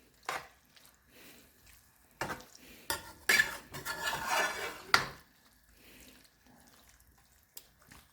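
Monkfish curry stirred in a pot, a spoon scraping and clinking against the metal in irregular bursts, with a busier run of stirring in the middle, close and moderately quiet.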